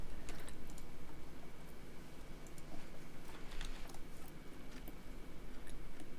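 Typing on a typewriter-style computer keyboard, a dense run of crisp clicks and clacks at a quick, uneven rhythm, close and fairly loud throughout with no talking.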